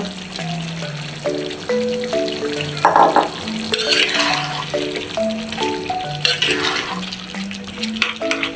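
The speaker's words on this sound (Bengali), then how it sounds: "এখন গিলা কলিজাগুলো নেড়ে চেড়ে এখন কটা আলু দিয়ে দিব।" Chicken gizzard and liver frying with potatoes in a pan, sizzling steadily while being stirred, with scraping bursts over a close, continuous hiss and light music-like tones running underneath.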